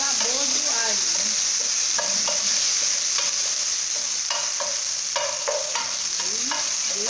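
Garlic frying and browning in a pan, a loud, close, continuous sizzle with repeated scraping stirs and faint voices in the background.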